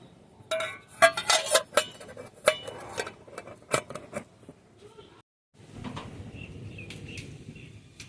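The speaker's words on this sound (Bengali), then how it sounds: "এখন ঢাকা দিয়ে ঢেকে দেব" A metal lid clanks and scrapes onto a cooking pot of steamed tangra fish with green chilies, a burst of sharp clinks before a short pause and quieter background with some talk.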